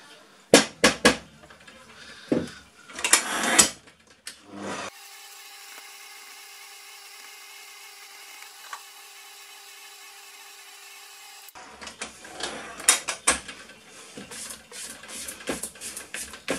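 An electric mixer working flour into Christmas cookie dough hums steadily in the middle, with clattering and knocking of bowl handling before and after.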